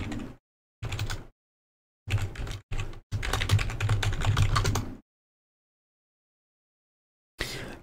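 Bursts of typing on a computer keyboard, entering a Linux terminal install command: short clusters of rapid clicks, then a longer continuous run of keystrokes, a long pause and a final brief burst, close and clear with no talking.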